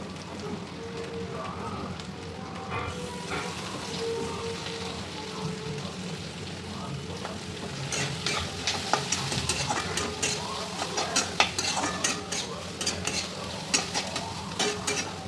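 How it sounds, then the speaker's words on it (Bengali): Squeezed-out soya chunks frying in a pan with oil as they are stirred, a steady sizzle with scraping and clattering stir strokes that grow busier and louder partway through, no talking. "আমি জলটা চেপে সয়াবিনগুলো দিয়ে দিচ্ছি।"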